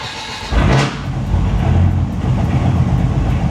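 A Dodge Viper with a newly fitted GCC triple-disc clutch kit catches and settles into a loud, steady idle, its deep engine rumble filling the scene with no talking.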